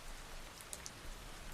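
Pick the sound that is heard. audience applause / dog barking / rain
rain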